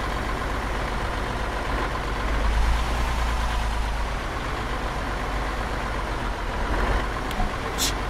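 A vehicle engine drones steadily in the Arma 3 video game, a loud, continuous low rumble that swells briefly midway and then settles, with no speech over it.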